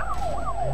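A police car siren in the racing video game Need for Speed Most Wanted wails loud and close, its pitch sweeping up and down in quick repeating cycles over a steady engine rumble.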